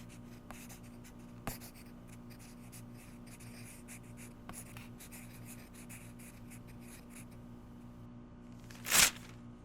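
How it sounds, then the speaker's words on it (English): A pen scratches softly on paper at a desk while an excuse note is written, a quiet close-up scribble with faint taps and a brief louder rustle near the end. "I'll write you an excuse note for your next class."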